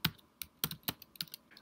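Typing on a Mac computer keyboard: about ten crisp key clicks in an uneven rhythm, close and moderately quiet, with no voices.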